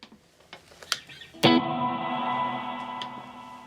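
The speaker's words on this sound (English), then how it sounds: "Let's try the reverb." After some quiet clicks and taps, an electric guitar chord rings out loud through the reverb of a Blackstar ID:Core 20 V4 amp, then sustains and slowly fades in a washy tail.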